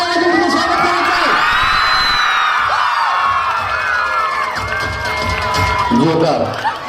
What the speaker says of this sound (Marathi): सर्वांनी टाळ्या वाजवून तिचं स्वागत करायचं आहे